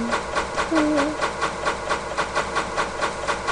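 A train running in a Minecraft train mod rolls along with a steady, evenly repeating rhythmic chug and hiss, heard alone and fairly close, with a brief tonal squeal near the start.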